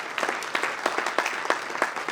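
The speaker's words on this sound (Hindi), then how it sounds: "जोरदार तालियां" An audience at a theatre drama performance applauds with steady, dense clapping that holds at an even level throughout.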